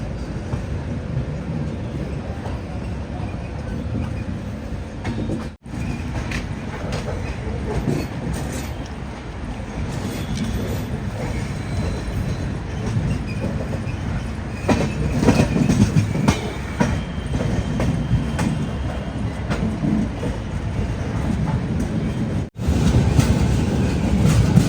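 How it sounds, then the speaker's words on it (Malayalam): The Bhagat Ki Kothi–Bandra Terminus Express pulls out of Surat and gathers speed, rolling a steady heavy rumble with clickety-clack over rail joints and faint wheel squeal, briefly dipping twice before surging louder near the end. "ഇതാ നമ്മുടെ ട്രെയിൻ എടുത്തിരിക്കുകയാണ്"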